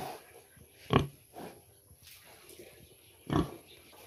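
Pigs in a pig pen give two loud short grunts or squeals, one near the start and one near the end, with a softer grunt between and quiet rustling in the background.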